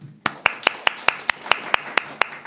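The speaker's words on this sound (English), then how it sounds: "If you don't mind, we can clap for you." Newcomers at a daily class receive steady, evenly spaced hand claps, about eleven sharp claps in a regular rhythm, close and distinct.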